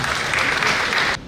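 A short, dense burst of clapping from an audience at the closing ceremony of the TOP12 in Brest, steady and loud throughout and breaking off at the end.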